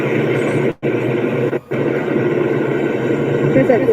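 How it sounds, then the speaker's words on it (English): A dog at a door whimpers and sniffs in close, steady bursts, with a low rumbling background and a couple of brief silent gaps. "my dog heard me. He's at my door now."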